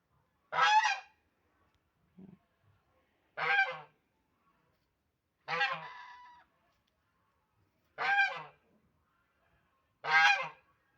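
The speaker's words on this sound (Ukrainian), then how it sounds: "Чи це гуска і гусак, чи, чи це два гусака?" Loud goose honks ring out one at a time, five calls spaced a couple of seconds apart, with quiet gaps between.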